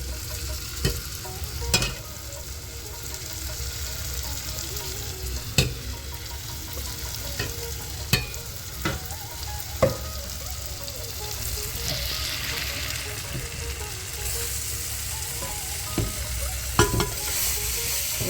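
Sautéed ingredients with masala frying in a pot for one-pot rice and dal: a continuous close sizzle, broken by repeated scraping knocks from a stirring spoon against the pot, with no speech.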